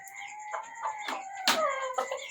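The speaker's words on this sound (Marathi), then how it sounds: "बघू शकता परत हे सगळे कोंबडे कसे ॲक्टिव्ह झालेत" Chickens and roosters in a balcony coop cluck in a busy flock during monsoon rain, with overlapping calls and a few louder squawks close by.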